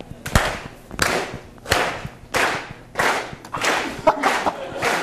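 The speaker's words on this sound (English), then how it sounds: "so we're going to have some clapping" A lecture-hall audience at a biochemistry class claps together in a slow, steady rhythm, about eight loud sharp bursts at even intervals, with brief voices in between.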